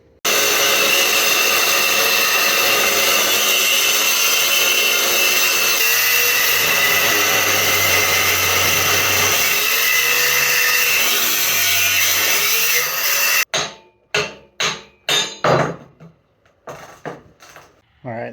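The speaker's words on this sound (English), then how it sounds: "maybe take the grinder and just grind the welds off and make it nice and smooth" An angle grinder grinds welds off the neck of a Sportster motorcycle frame with a loud, continuous, harsh whine lasting about thirteen seconds. It then cuts off, followed by several close metallic knocks.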